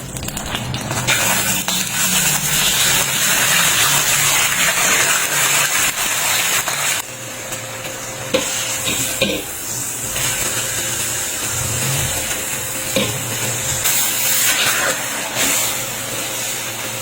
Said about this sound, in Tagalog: Tsaka ito isisir sa mainit na mantika para malak yung lasa.